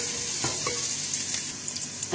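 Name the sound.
onion and eggplant sautéing in a pan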